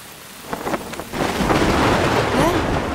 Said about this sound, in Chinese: 人间一直这么下雨吗？